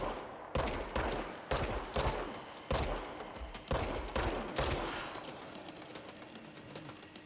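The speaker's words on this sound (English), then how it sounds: "there's a fucking dude shooting at me from down here" Enemy gunfire from the video game Control cracks out in a string of sharp, loud shots, each with a short tail, coming in an uneven rhythm and fading to a softer rumble toward the end.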